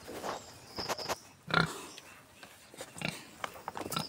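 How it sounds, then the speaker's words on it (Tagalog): A pet pig, freshly bathed, snuffles and grunts in short, soft bursts close by, with faint rustling and chewing-like noises in between. "Update po sa aming alagang baboy na dumalaga."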